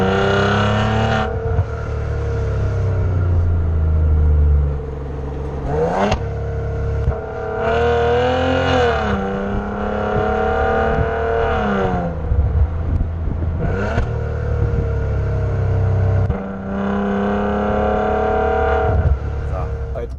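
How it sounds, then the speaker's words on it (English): Maserati Levante S from 2018 with a twin-turbo V6 petrol engine, its loud, steady exhaust note droning close by with rising and falling revs and shifts across twenty seconds, no talk over it. "It's got the lovely note of the V6 Twin Turbo petrol, which really livens things up."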